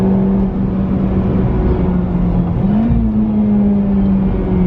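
A Honda Civic Type R drives along with a steady engine drone and dense road and wind roar from inside the cabin, the engine note rising slightly as it accelerates.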